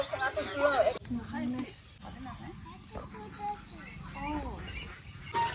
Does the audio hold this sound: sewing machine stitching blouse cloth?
no